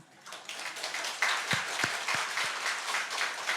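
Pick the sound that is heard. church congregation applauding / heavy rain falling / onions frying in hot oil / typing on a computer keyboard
church congregation applauding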